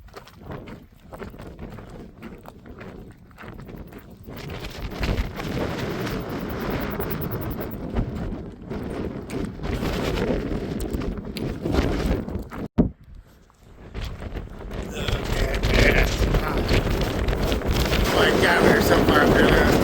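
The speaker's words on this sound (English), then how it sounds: "Oh, it is windy as hell." Strong wind funneling through mountain chutes in Glacier National Park's Two Medicine area, buffeting the microphone in loud, gusty roars that drop briefly and then build again, with a person talking partway through.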